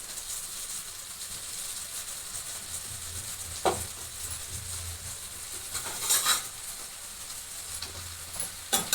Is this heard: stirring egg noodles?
yes